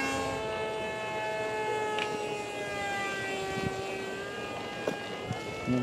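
An RC plane modeled on the T-50 PAK-FA flies overhead with a steady, droning whine that holds a sustained tone throughout, heard from a moderate distance with no talk.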